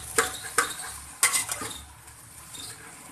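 A spoon clinks against a pan as ginger garlic paste goes into frying okra for a dhaba-style bhindi, with three or four sharp metallic taps early on and then quieter scraping over a faint background.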